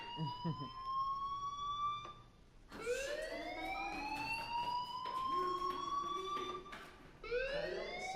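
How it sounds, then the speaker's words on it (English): A fire alarm in the video game Life is Strange, a loud rising-and-falling electronic wail repeating in long sweeping tones, with brief breaks between cycles and no talking. "do you hear that fire alarm?"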